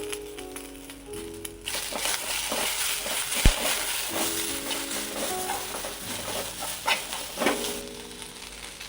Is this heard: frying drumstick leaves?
yes